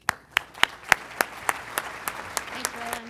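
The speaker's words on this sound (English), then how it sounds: "please join me in a warm round of applause for Atina Diffley" Audience at a sustainable agriculture conference keynote in a banquet hall claps in a sharp, evenly spaced rhythm, about a dozen distinct claps standing out, with a faint tone appearing at the close.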